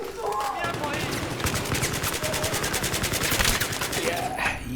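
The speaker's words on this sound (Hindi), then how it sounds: "ये गन भी बहुत अच्छा है, मस्त है इसका रिकॉइल" Automatic gunfire from a weapon in the video game Battlefield 3, a steady rapid burst of shots running nearly the whole time, loud and close, with faint game sounds underneath.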